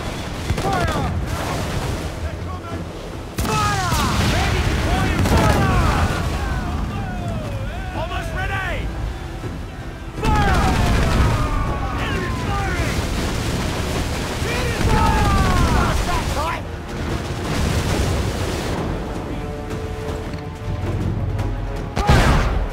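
Naval ship cannons firing in Assassin's Creed IV Black Flag during a sea battle, heavy booms and crashing blasts recurring over a dense roar of combat, with shouting voices mixed throughout.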